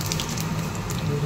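Cumin seeds hit hot oil for cabbage with a brief, dense crackling sizzle, steady and close, heard alone.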